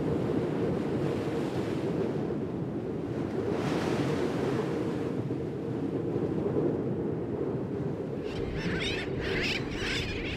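Ocean surf rumbles continuously on the reef at Atol das Rocas, a heavy roaring wash with wind buffeting the microphone, and brief splashes near the end as a small boat crosses the breaking waves.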